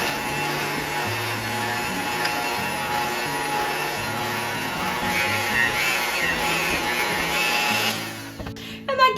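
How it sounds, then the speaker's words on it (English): An electric hand mixer whirs steadily as it mixes red velvet cookie dough with baking powder, chocolate and salt, a continuous close motor drone with grinding texture that cuts off near the end, followed by a few clunks. "I'm going to just mix these in here with my hand mixer"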